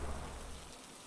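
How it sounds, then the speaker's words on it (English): Steady rain falls in the video game The Raintime, a soft continuous hiss that stays faint and even throughout, with no voices over it. "I feel the first raindrops on my head."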